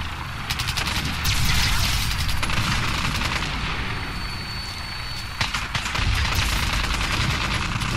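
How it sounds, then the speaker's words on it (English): Sustained raider gunfire in Fallout 4 survival play, loud dense bursts of automatic and single shots overlapping continuously for the whole stretch, with heavy booming low end and no talk. "Please tell me it's raiders shooting at me and not..."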